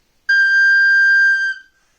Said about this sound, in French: Ce sifflet permet de faire entendre un seul son